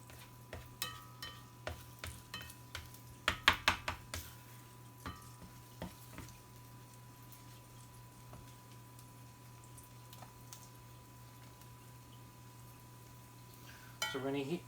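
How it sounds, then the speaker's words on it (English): Eggs are scrambled in a pan on a Frigidaire Gallery FGIC3066TB induction cooktop, with a run of utensil taps and stirring scrapes over a faint sizzle and a steady low cooktop hum. "We're just going to scramble it up real quick."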